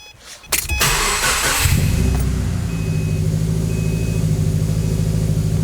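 A 2012 Subaru Forester engine cranks briefly with a loud starter whir, catches, and settles into a steady, close idle hum with no talk.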